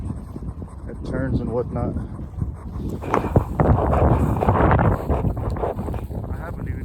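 Wind buffets the microphone during a snowy winter off-road ride on a Begode EX20S electric unicycle, a rough rumbling roar that builds louder midway while a person talks over it.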